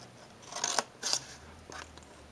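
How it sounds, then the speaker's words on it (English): Scissors snip through cardstock box tabs in three short, crisp cuts, close and clear, with a quiet room behind and nobody talking. "we're going to cut"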